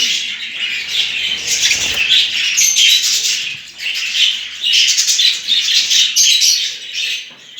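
Steady high-pitched chirping and squawking from a group of budgerigars feeding on boiled cracked grain, with bursts of wing flapping now and then, close and continuous.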